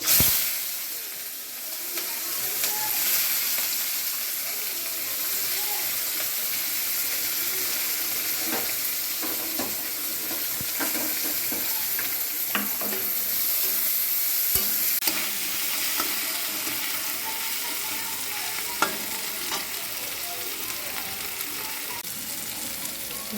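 Onions frying in oil with a five-spice tempering and dried red chilli, a continuous close hiss and crackle with repeated scraping and clattering stirs across the pan.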